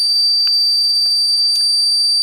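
A Super Joule Ringer 2.0 circuit running in overdrive gives a loud, steady high-pitched ringing tone with a second harmonic whine, constant for the whole stretch with faint ticks underneath and no talk.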